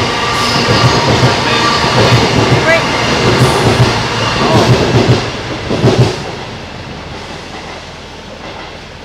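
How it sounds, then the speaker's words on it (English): A train rumbles past near a narrowboat on a city canal, its loud rushing roar and rhythmic wheel clatter fading away after a few seconds, with a brief spoken word. "Another train."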